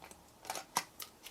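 Scissors snipping into a square of card to make a notch for a fold-out votive candle holder: a few quick, crisp close-up snips in brisk succession, quiet and without talking.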